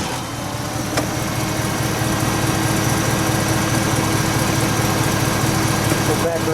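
A V8 engine in a 1968 MGB idles with a steady, low, throbbing rumble close by, while voices speak over it.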